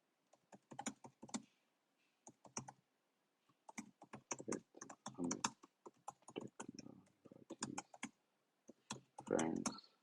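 A computer keyboard clatters in irregular bursts of typing while a prompt is entered, with close, crisp key clicks broken by short pauses.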